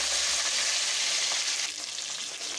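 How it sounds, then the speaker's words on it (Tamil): Onions, tomatoes and chillies frying in a pan over low heat for varutha sambar, a loud continuous close sizzle with faint stirring scrapes and no voices. "வெங்காயம் போட்டு, தக்காளி போட்டு, மிளகா போட்டு நல்லா எல்லாத்தையும் வதக்கணும்"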